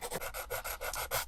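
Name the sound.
sanding stick rubbing a model car body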